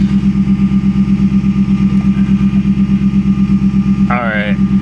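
A car with a loud exhaust idles close by at a salvage auction lot, giving a steady, throbbing rumble with an even pulse. A brief voice cuts in near the end.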